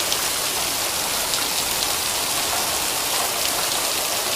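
A steady, loud wash of heavy rain falls outside, an even broadband hiss that holds without a break and with no talking.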